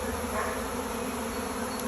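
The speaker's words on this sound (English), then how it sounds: "So here, everyone, is a swarm of bees" A swarm of bees on a farm buzzes in a dense, steady drone, loud and close, filling the whole moment without pause and with no voices.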